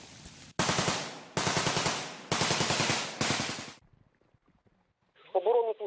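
Four heavy, loud mortar blasts boom in quick succession nearby near Horlivka, each trailing off, followed by a brief quiet and a short voice.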